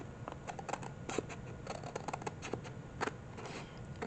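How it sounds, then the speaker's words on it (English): Scissors cutting paper pages for a junk journal travel folder, a steady run of quick snipping and rustling at close range with no talk. "I'll worry about this after I cut it"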